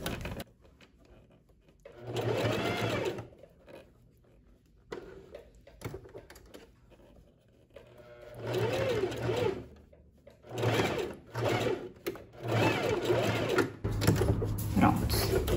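A sewing machine stitches a blouse seam, setting a sleeve into the armhole, in several short bursts of whirring stitches separated by quiet pauses, with someone speaking in between.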